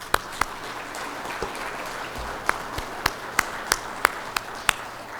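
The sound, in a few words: applause for the WCB team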